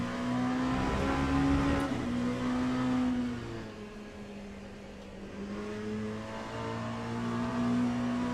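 LMP2 prototype race cars accelerating in the Le Mans Ultimate racing game at Fuji, a steady loud engine drone with rising and falling pitch as gears change, running continuously without talk.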